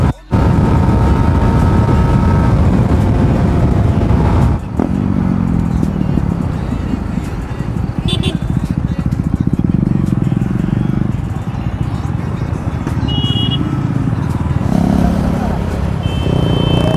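Motorcycles such as a Yamaha MT-15, KTM Duke 390 and Yamaha R15 V3 with an SC Project exhaust revving loudly and continuously up close, with a few sharp pops, while someone talks over the engine noise.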